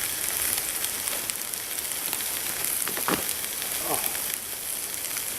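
Food grilling over an outdoor campfire at a wooded bushcraft camp, giving a steady close hiss and crackle that runs throughout with a few sharper pops.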